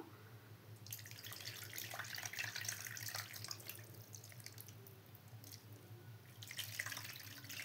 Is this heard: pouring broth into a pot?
yes